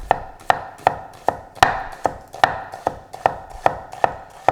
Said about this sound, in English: I'm going to chop up a little bit of onion